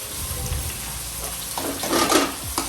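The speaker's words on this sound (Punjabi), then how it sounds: "ਹੁਣ ਲਸਣ ਪਿਆਜ਼ ਦਾ ਜਿਹੜਾ ਪੇਸਟ ਬਣਾਇਆ ਸੀ ਮੰਮੀ ਨੇ ਉਹ ਪਾਤਾ" Garlic and onion paste added to hot oil with roasted cumin for a potato and pea curry, giving a steady close sizzle that swells with scraping, bubbling bursts near the end.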